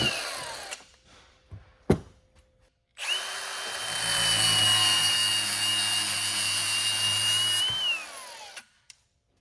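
Power cutting tool slicing through metal inside an Acura NSX to clear room for a shifter mount during a turbo four-cylinder swap; a few short bursts and knocks, then a loud steady whine held for about six seconds before stopping.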